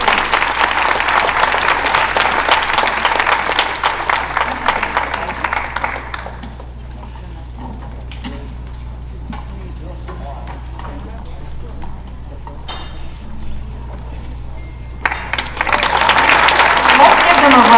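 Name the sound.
audience applause for a film panel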